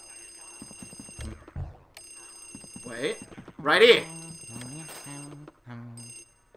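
A telephone in the Luigi's Mansion video game rings in two electronic bursts, followed by a speaking voice and game sound effects.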